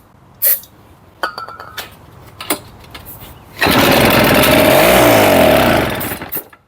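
Snowblower engine cranked on starting fluid, a few sharp pull clicks and knocks, then the engine catches and roars loudly for about two seconds before dying back down.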